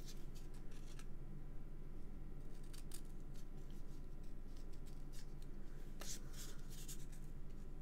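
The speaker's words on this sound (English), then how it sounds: "So let me use my scissors." Scissors cutting through card for a handmade card, giving soft, intermittent snips and rustles close by over a steady background hiss, with no talking.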